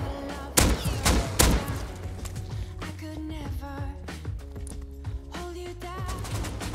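AK rifle gunfire in the video game Rust, several bursts of rapid loud shots with thuds and scattered impacts, continuing in broken bursts over game noise.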